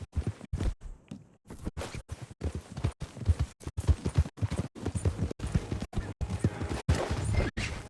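Steady clip-clop of horse hooves walking in Red Dead Redemption II, a rhythmic series of close, crisp hoof strikes with a brief pause near the start.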